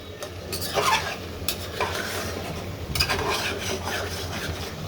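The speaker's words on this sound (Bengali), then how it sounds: "সুন্দর করে কষিয়ে নিব কারণ কষানোর ভিতরেই ফিফটি পারসেন্ট টেস্ট আসে" Curry being sautéed and stirred in a pan, a steady scraping and rubbing of the utensil against the pan over a soft sizzle, close and moderately loud with no talking.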